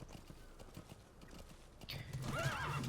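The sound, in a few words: horse hooves clip-clopping in video game Metal Gear Solid 5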